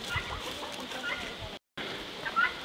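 Chickens clucking on a homestead, several soft irregular clucks and calls at moderate distance, with a brief dropout midway and faint voices in the background.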